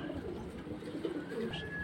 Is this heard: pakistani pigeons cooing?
yes